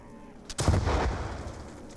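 A weapon fires in Call of Duty: Black Ops II Zombies, one heavy booming shot with a brief click just before it, followed by a rumbling tail that slowly fades over about a second.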